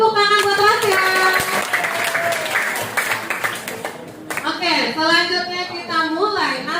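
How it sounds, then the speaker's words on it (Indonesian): A class of students applauds a classmate in a primary classroom, the clapping heard under and among bright overlapping voices and cheering that carry on throughout. "beri tepuk tangan buat Tasya"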